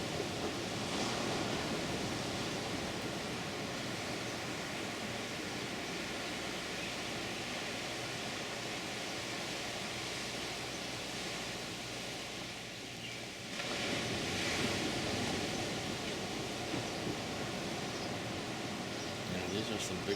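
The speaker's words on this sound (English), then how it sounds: "We got quite a lot of surf going on here this morning." Ocean surf breaking below a balcony on Maui on a morning of heavy waves, a broad continuous roar that dips briefly and then surges back as a big set rolls in, with no voices.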